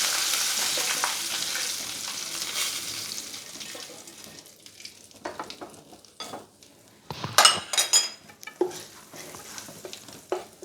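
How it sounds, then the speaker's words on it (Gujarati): Hot Gujarati vaghar tempering poured into handvo batter, giving a steady sizzle and frying hiss at first, followed by louder stirring clatter and scrapes of a utensil against the pan, with no talking. "જે વઘાર તૈયાર કર્યું હતું આપણે થોડુંક આમાં ઉમેરી દઈએ"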